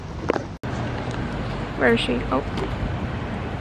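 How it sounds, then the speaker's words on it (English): Wind buffeting a handheld microphone in a Stockholm park beside Kungsträdgården, a steady roaring rumble with a brief dropout early on, while people talk and laugh over it. "It's really windy out"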